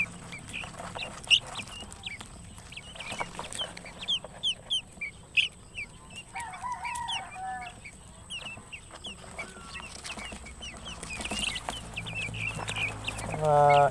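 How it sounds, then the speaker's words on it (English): Two-week-old guinea fowl keets chirp in scattered high peeps and bursts throughout, fairly close, with a faint voice now and then beneath them. "So, guinea fowl kits."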